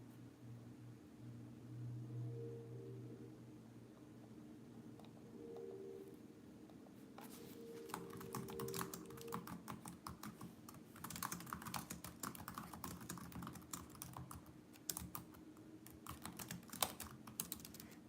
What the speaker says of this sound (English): Obviously, you guys know when I'm typing.